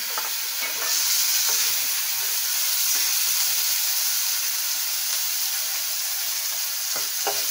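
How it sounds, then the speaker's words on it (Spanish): Chiles fry in hot oil with a loud, steady sizzle that runs unbroken throughout, broken only by faint stirring clicks. The sound is close up and there is no talking. "Los chiles los voy a pasar rápido en el aceite."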